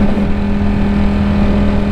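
Ducati Streetfighter V4S motorcycle engine running loud and close, a steady high-revving roar with a strong low hum that holds for the whole two seconds, no voices.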